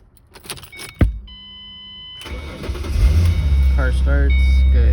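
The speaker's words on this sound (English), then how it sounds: "Car starts, good." A 2007 Ford Mustang is started: a key jingle and click, a warning chime, then the engine cranks and catches into a steady idle, close and clear.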